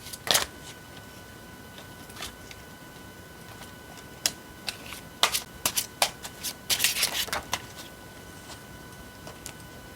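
Tarot cards shuffled by hand during a reading, crisp riffling bursts of flicking card edges coming in irregular clusters, quiet and close with pauses of near silence between.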